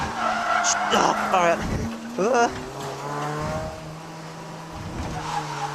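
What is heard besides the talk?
Honda Prelude drifting on mountain road, tires squealing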